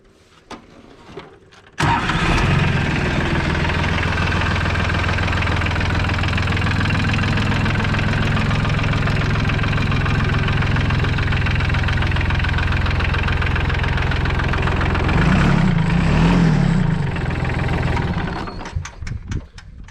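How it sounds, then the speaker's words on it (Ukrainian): A Solis mini tractor, freshly serviced with new oil in the rear axle, hydraulics and gearbox, starts up and idles steadily with a loud, even engine drone that holds for most of the stretch before cutting off near the end. "Трактор все працює, заводиться чудово. Моторчик робить як годинник."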